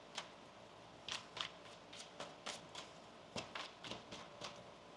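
Quiet riffle shuffling of a tarot deck, a series of short soft crisp card bursts spaced irregularly over a few seconds, close and faint with no talking.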